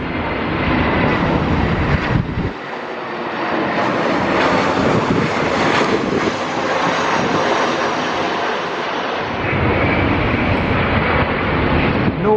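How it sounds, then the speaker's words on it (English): An EasyJet airliner arrives at Gatwick in high winds, and its jet engines roar loudly and steadily for the whole stretch, swelling slightly as it passes with no voices over it. "EasyJet inbound from the Isle of Man."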